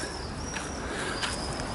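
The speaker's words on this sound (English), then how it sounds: "listen to the birds waking up" Birds call at dawn over a steady background hiss, with a soft dove-like coo and a few thin chirps coming and going.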